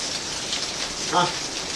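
Rain falling outside a home in Saudi Arabia, a steady soft hiss with a brief louder splash or patter near the middle, no speech.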